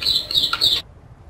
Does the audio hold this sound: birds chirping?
yes